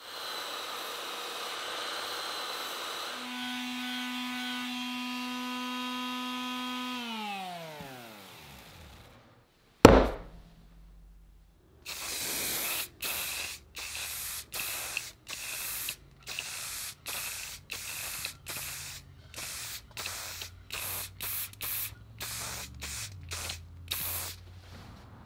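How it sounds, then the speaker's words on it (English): A belt sander fitted with 80 grit sandpaper shapes a rosewood and white oak knife handle with an epoxy handle: the motor spins up and winds down, then a long series of short, rhythmic, rasping sanding passes follows. "There's 80 grit sandpaper on the belt sander."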